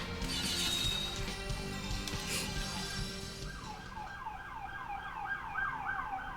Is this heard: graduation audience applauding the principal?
no